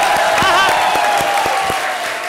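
Audience applause on a comedy show stage: a dense burst of clapping and crowd noise with a few distinct claps standing out, lasting a couple of seconds with a voice briefly audible over it.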